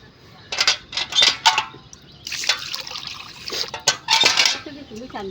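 Something being rinsed clean in water at a kitchen sink, with splashes, trickling and clinks of dishes in short uneven bursts, close by; a voice speaks briefly near the end.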